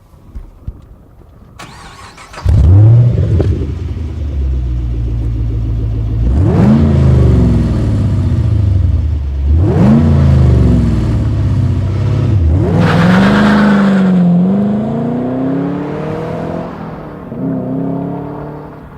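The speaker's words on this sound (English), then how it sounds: "We're going to begin with a comparison of startup and launch, and this is the Touring system." A 2010 Chevrolet Camaro fitted with a Borla Touring exhaust cranks and fires up loudly into a deep idle, then launches hard through several rising, gear-shifting pulls that stay close and prominent.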